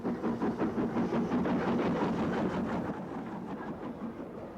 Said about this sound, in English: a Ventnor-bound train can come in, headed by W16 Ventnor herself